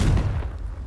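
A Confringo blast curse explodes in Hogwarts Legacy: one heavy, booming burst that quickly decays into a low rumble.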